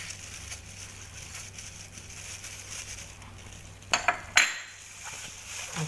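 Seasoning stirred into a catfish pecel dish in a pan: a steady low kitchen hum, then a few sharp metallic clinks and scrapes of a utensil against the pan near the end.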